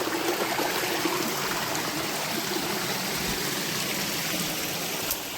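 Narmada water flowing as a forest stream near a hidden waterfall, a continuous bright rushing and splashing wash that stays steady and close with no voices.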